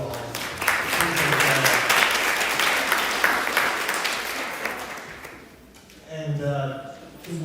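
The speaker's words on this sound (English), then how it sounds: "Just give another round of applause." A conference audience applauding an evening speaker, broad sustained clapping that fades over about five seconds before a voice begins speaking.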